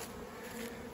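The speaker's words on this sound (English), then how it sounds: "There's a few bees on the ground there." Honey bees buzz close by around hive boxes that have been taken apart, some crawling on the ground, making a continuous, even drone throughout.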